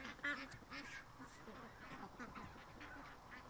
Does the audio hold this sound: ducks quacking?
yes